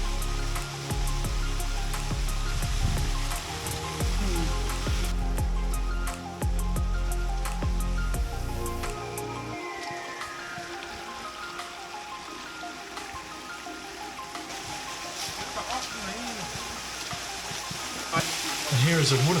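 Waterfall in Cyprus near picnic benches, a steady close rush of falling water that continues throughout while wind buffets and handling noises thump low at the start.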